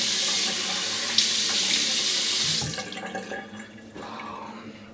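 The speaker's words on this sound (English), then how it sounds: "let's go ahead and have a cold water rinse and then do the aftershave." Cold tap water runs steadily into a sink for a post-shave rinse, a loud, close, continuous rushing stream that cuts off partway through, leaving softer drips and splashes.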